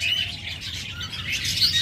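A pair of high-mutation pet budgerigars chirp steadily and fairly close, a continuous twittering chatter with no voices over it.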